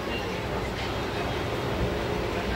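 A passenger train running from Bengaluru to Vasco da Gama after leaving Yeshwantpur station gives a low, steady rumble heard from inside the coach, constant and fairly quiet with no distinct beats.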